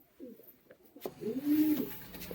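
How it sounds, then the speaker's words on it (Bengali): A Giribaz pigeon coos in a low, throaty burst after a brief quiet start, fairly close and clear, with faint rustling around it. "খুবই অ্যাগ্রেসিভ পায়রা, হাতে ধরে রাখা যাচ্ছে না কোনো রকম"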